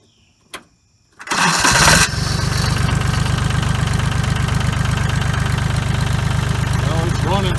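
A 1989 Kubota L2550 tractor engine cranks briefly after a click, catches, and settles into a steady, loud diesel chug with a rapid, even knock, close to the listener.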